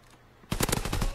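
A machine pistol in Call of Duty: WW2 multiplayer opens up after a half-second of quiet, loosing a rapid, loud burst of about eight evenly spaced shots close at hand.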